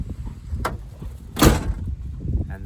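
Door of a 1979 B300 camper van swinging shut and latching, a single firm thunk near the middle, close by against a low background rumble.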